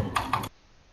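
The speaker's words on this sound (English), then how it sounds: "I'm typing now." Typing on a computer keyboard produces a quick burst of about three close, crisp key clacks, and then near silence follows.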